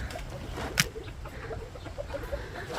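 Three bantam hens cluck softly in a backyard coop, with short, scattered low clucks at moderate distance over faint background noise and no talk.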